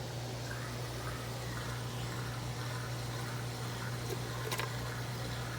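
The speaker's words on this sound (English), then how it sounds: "Let's see if I can turn this pump on, pump out some water." Cooling pump on a Vevor 5 gallon water distiller pumping water, a steady low motor hum under continuous watery rushing and splashing, fairly faint and unbroken.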